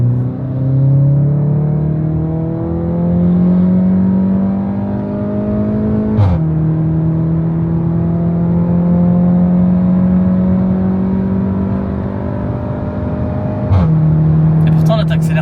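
A Cupra Mégane with around 300 hp drives along, heard loud and close from inside, its engine note rising smoothly in pitch with two sharp gear changes.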